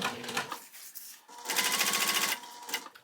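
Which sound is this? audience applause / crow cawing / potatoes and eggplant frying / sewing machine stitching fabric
sewing machine stitching fabric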